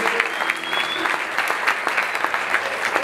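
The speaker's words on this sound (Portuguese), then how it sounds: "Você pode aplaudir o Senhor porque Ele é vivo." A church congregation applauds during a worship service, a dense sustained round of clapping with a few sharper claps standing out, close and loud throughout.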